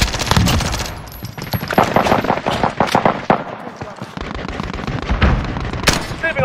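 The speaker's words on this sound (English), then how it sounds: "Receiving hostile fire." Intense Call of Duty Warzone firefight with rapid bursts of automatic gunfire and sharp single shots, loud and close, mixed with explosive cracks and radio-style voices talking.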